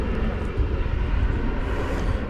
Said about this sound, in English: Going out to San Diego is American Flight 1243 and Airbus